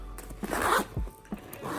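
A zipper on a weekender kit case from a Tammy Taylor nail product unboxing is pulled open in a few quick, close rasping strokes, with rustling from packing popcorn around it.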